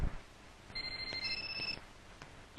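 A phone rings in short electronic bursts, faint and somewhat distant, with quiet background and no talking.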